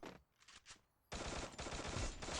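Gunfire in the mobile shooter game Free Fire MAX, a few quiet separate shots at first, then a sudden loud burst of sustained rapid automatic fire that runs to the end.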